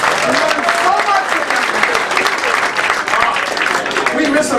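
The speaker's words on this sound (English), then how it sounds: "clap if you're a Tim Conway fan" Audience applause for the late comedian Tim Conway at a New Year's Eve 2019 stage show, a steady broadband clapping that fills the room for several seconds with a voice faintly heard underneath.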